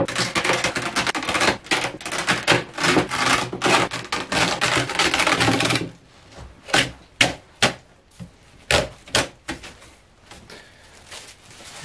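Old grill cloth being torn off a stapled speaker cabinet: several seconds of dense, rough ripping and tearing, then a run of sharp, separate snaps and pops as the stapled edges pull loose, close and loud with no talk.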